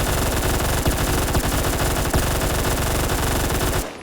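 Rapid continuous automatic gunfire from an M855-loaded gun in the shooter game Phantom Forces, loud and close, an unbroken fast rattle of shots that stops abruptly near the end.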